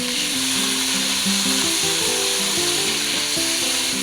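Chicken fries in a pan with fragrant garlic and softened onion, a loud, dense, unbroken sizzle close up, with a faint melodic tone running beneath it.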